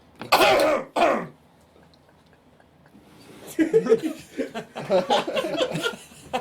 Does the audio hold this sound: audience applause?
no